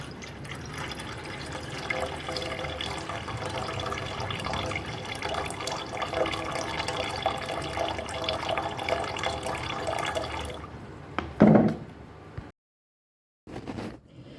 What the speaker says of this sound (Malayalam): ആ ബക്കറ്റിലേക്ക് ഒമ്പത് ലിറ്റർ വെള്ളം നമുക്ക് ഒഴിച്ചു കൊടുക്കാം